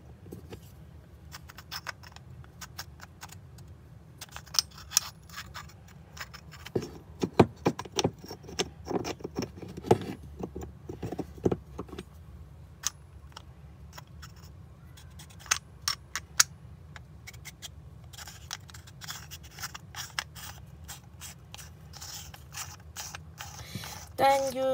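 The top piece of a flexible AAC-style silencer is fitted onto a gel blaster, a string of small plastic clicks, taps and rattling handling noises up close, irregular and fairly quiet over a low room hum.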